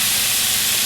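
Oil in a very hot pan flaring into a small fire from excess moisture while searing chicken for cacciatora, a loud continuous hiss and sizzle with no pauses.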